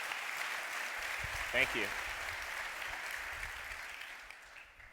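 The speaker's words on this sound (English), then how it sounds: "Let's get a round of applause for that." Soft, steady audience applause at a business talk runs throughout as a hushed wash, with a brief spoken voice cutting in near the middle.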